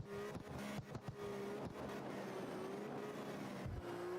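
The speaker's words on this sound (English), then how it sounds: "Second time sending this car down mountain" A drift car in a video game roars down a mountain road, its engine droning and revving with shifting pitch and brief dips, faint and steady with no talking.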